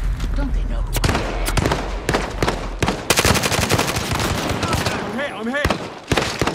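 Rapid bursts of video game gunfire crackle almost nonstop at close range, dense and loud, with a few sharper heavy shots breaking through the barrage.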